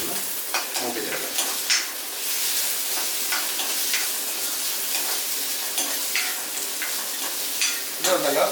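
Black gram (urad dal) roasting in a hot pan on a medium flame, giving a close, continuous sizzle and crackle with repeated stirring and scraping strokes throughout.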